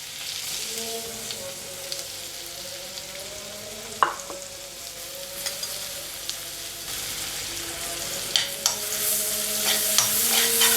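Onion and dry chili fry in about ten grams of butter over a very low flame, a steady soft sizzle with occasional stirring clicks and scrapes, close, while a voice speaks over it.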